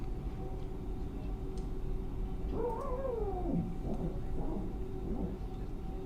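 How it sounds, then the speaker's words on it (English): The power transfer unit of an FSLabs A321neo airliner in the MSFS2024 flight simulator gives a brief whining tone that rises and falls, over a steady low cabin hum. "Nice sounds with the PTU."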